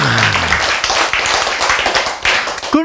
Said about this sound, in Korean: 이럴 때 박수 쳐야지, 여러분.